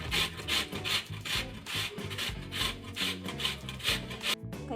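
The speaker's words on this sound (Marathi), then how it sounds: "ही कैरी स्वच्छ धुवून मी त्याची साले काढून त्याला किसून घेतलेला आहे." Peeled raw mango is rubbed against a grater in steady, rhythmic scraping strokes, about two per second, close up and moderately loud.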